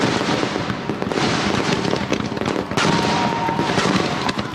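Gunpowder fireworks burst in a loud, dense barrage of crackling bangs and pops, continuous and close for several seconds with no pause.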